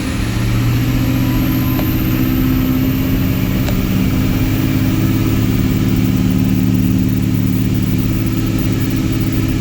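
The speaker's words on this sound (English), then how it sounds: "Now, we have it outside, cruising down the road." A Ford 6.0L Powerstroke diesel truck with a bad vibration cruises down the road, its steady low engine drone and road rumble loud and continuous throughout, with no talking.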